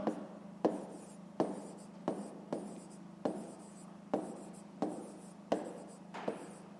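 Handwriting in a fifth-grade maths lesson, a pen scratching and tapping across paper in short strokes about once every half second to second, close and quiet, with a faint steady hum underneath and no talk.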